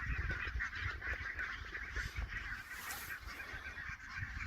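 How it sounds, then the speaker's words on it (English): A sizable flock of brent geese honks in a low, murmuring chorus at some distance, overlapping calls blending into a steady throaty babble, faint and continuous with no voices. "Those are brand geese,"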